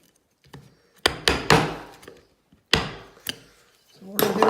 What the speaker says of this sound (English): I want to get a bigger chisel in there to tidy up that.